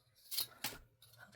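Scissors cutting paper circles for a Christmas junk journal craft, heard as a few brief crisp snips spaced apart, close and fairly quiet with no talking.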